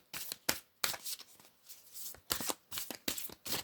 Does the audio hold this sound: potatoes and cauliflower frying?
no